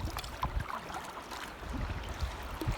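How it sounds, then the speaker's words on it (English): Waves crash and slosh against a boat on windy Georgian Bay, a dense, continuous roar of water and wind gusts close to the microphone. "Waves are crashing all over."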